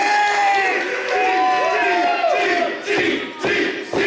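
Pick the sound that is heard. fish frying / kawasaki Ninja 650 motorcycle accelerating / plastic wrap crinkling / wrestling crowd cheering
wrestling crowd cheering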